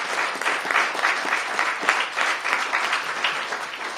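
Audience applause at a clean energy bill signing, sustained dense clapping throughout, steady and fairly close with no talk over it.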